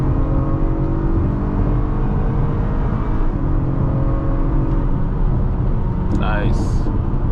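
A 2021 Acura RDX SUV in sport mode pulls away from a stop with a steady, close engine drone and rising whir heard from inside the cabin, a brief voice breaking in near the end.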